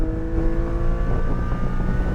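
Porsche Cayman GT4 on a racetrack at full throttle, its engine holding a loud, steady high-pitched drone with no voices over it.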